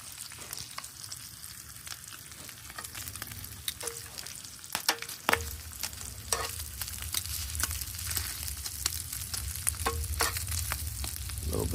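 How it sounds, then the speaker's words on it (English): Bacon frying on a Weber Q flat griddle outdoors, a continuous crackling sizzle with scattered sharp pops and spatters, moderately loud and close, with no talk over it. "Perfect for cooking bacon."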